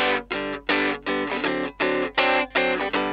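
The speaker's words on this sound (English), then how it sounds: "Let's hear a guitar sample without any effects on it." A dry electric guitar with no effects plays a riff of short, separate chords, each cutting off cleanly before the next, loud and close with nothing else audible.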